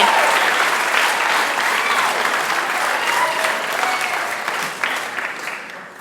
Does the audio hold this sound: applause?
yes